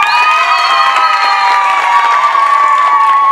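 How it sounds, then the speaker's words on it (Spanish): A crowd at a rural farmers' day celebration in Colombia cheers and shouts for a contestant, with loud overlapping voices, some high children's shouts, and a little clapping running steadily throughout. "Un aplauso por la número uno."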